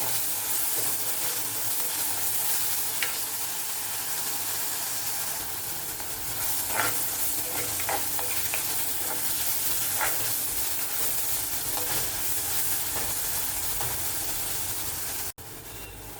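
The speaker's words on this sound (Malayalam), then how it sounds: "എല്ലാം ഒന്ന് വഴന്ന് വരട്ടെ. അതുപോലെ നമുക്ക് ഇളക്കിക്കൊണ്ടിരിക്കാം." Onions, with crushed spices added, stirred and sautéing in a pan for a Kerala karal fish curry, a steady loud sizzle and hiss throughout with occasional scraping clicks of a spoon, no talking.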